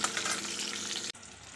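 Sliced pointed gourd (potol) frying in hot oil, with a steady, dense sizzle and a few stirring scrapes for about a second. The sizzle then cuts off abruptly, and a fainter, duller sizzle follows.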